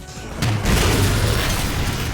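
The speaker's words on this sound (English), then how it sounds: "my favorite is probably the Incineration Cannon" An Incineration Cannon in Halo 4 fires with a sudden booming blast that swells into a loud, sustained rumble lasting about two seconds.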